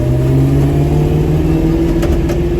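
A 2003 Ford Mustang GT with cold air intake, X-pipe and cherry bomb glass pack mufflers runs close by with a steady, throaty drone, holding a continuous low rumble throughout.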